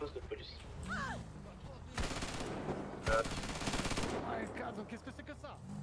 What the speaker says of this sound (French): Les coups de feu à la plage.